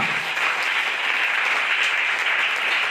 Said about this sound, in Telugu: దేవుడు మాతో ఉండాలి అన్నవారు చేతులు ఎత్తి చప్పట్లు కొట్టండి గట్టిగా.